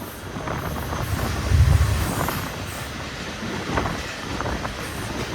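Pakistan Railways 13 Express hauled by locomotive 9038 on the Mirpurkhas–Karachi line, a steady rumble of rolling wheels and rail clatter with a heavier surge near the middle, close and continuous.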